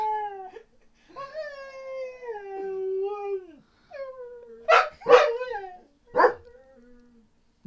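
A dog barks and howls through online voice chat during a Golf Clash game: long wavering howl-like tones give way to several sharp, loud barks near the end, with no one talking.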